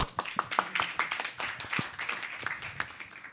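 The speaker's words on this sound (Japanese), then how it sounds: "皆さん拍手お願いします" A small audience at a panel discussion claps by hand, with uneven, sparse individual claps close by rather than a full roaring applause.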